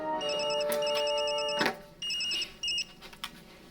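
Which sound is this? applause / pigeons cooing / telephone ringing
telephone ringing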